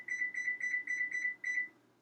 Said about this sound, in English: So we're going to set it on 10 minutes